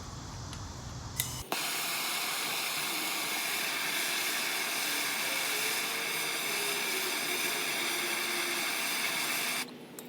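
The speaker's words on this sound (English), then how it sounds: "using a torch to heat up the plastic, and then it just folds right out" A torch flame blasting steadily on the plastic piece of a broken hose bibb, a loud continuous roaring hiss that starts abruptly after a brief click and runs unbroken for about eight seconds before cutting off.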